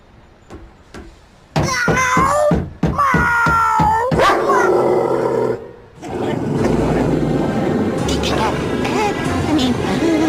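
A cartoon dog yips, barks and whimpers in rapid, loud bursts, mixed with frantic animated voices shouting and a chaotic rush of scuffling effects toward the end.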